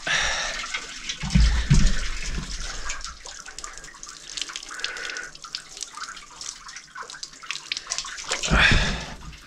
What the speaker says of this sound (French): On va laver les bidons aussi parce que ils ont pris cher.